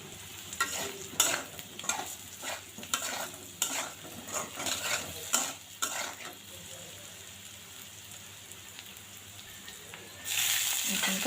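Dried chili powder and coriander powder fry in a pan for a pointed gourd and coconut dish, with a spoon scraping and stirring in irregular bursts over a soft sizzle that turns into a louder hiss near the end.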